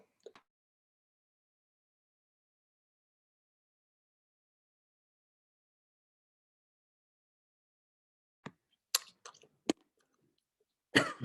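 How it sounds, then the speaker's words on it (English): A few short coughs and throat clearing near the end after a long silence, close by and abrupt, in irregular bursts. "I've got a tough cough, and I apologize"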